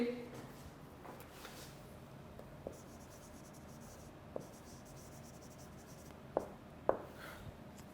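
A pen writing by hand during an online English lecture, making faint scratching strokes and a few sharper taps under a lecturer's ongoing voice.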